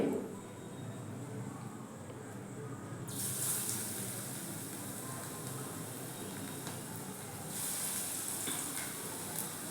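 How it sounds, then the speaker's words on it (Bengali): Chana dal fritters frying in oil give a steady, moderate sizzle and hiss throughout, brightening after a few seconds as the bubbling intensifies, with no talking. "বাকি বড়াগুলোকেও ভেজে নেব।"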